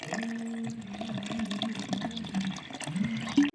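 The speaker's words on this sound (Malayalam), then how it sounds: "ഇനി നമുക്ക് തണുത്ത വെള്ളം ഒഴിച്ചു കൊടുക്കാം" Cold water pours steadily into a mixer-grinder jar for a few seconds, a continuous close splashing flow that ends with a brief knock.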